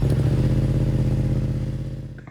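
A 2023 Yamaha XSR900 fitted with an SC Project CRT exhaust idles loud and close with a deep, lumpy, pulsing burble that slowly fades toward the end.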